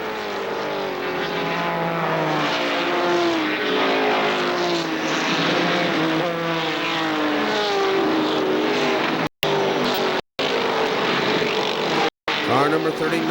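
ARCA stock cars roar past in a race led by the Willow Brothers Racing Chevrolet Monte Carlo, loud sustained engine drone with rising and falling pitch sweeps as cars pass, under continuous commentary, with brief dropouts near the end.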